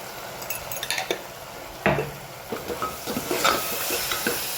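A spoon stirs ground coriander-cumin, turmeric and salt in a cooking pot, with clinks and scrapes against the metal and a soft sizzle underneath, close and fairly loud.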